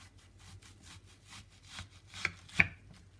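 A sharp knife slicing through an onion: soft rhythmic sawing strokes, quiet and close, ending in two sharper cuts as the blade goes through.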